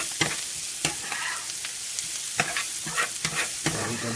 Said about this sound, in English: these onions are starting to get nice and brown